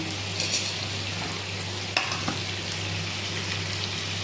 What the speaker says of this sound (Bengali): চিকেনটা দেখে ভাজা ভাজা হয়ে গেছে